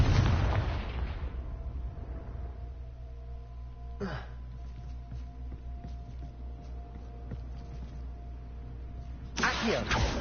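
A Confringo fire curse in Hogwarts Legacy, with booming blasts at the start and end of the clip, a short burst partway through, and a low rumbling game soundscape in between.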